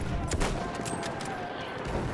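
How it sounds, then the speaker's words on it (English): Dense gunfire in Battlefield 1 during a Conquest match at Prise de Tahure: a continuous barrage of overlapping shots and bursts, loud and sustained throughout. "There's a rain of gunfire."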